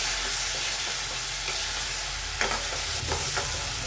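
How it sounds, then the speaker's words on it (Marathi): Ground masala paste of onion, ginger, coconut, garlic and coriander stems frying in oil for misal, a dense continuous sizzle close up with a few scraping stirs of a spoon near the end. "तर ते वाटण आहे याला आपण चांगलं परतून घेऊ"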